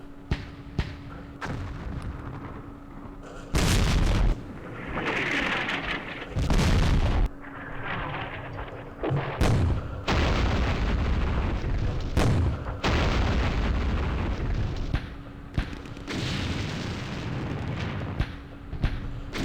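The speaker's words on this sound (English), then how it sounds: "These mortars and shells are not going to do anything, really." Mortar shells exploding in Campaign Series Vietnam, a Dien Bien Phu battle game: repeated loud, sharp booms land at irregular intervals over a rumbling bed of distant artillery, some blasts close and heavy, others duller.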